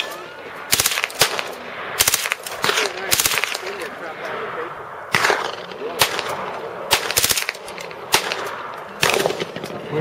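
Machine guns at a Christmas machine gun shoot fire a series of sharp bursts and single cracks, spaced irregularly across the stretch at moderate distance, with voices talking between shots.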